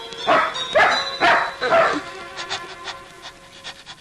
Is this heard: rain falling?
no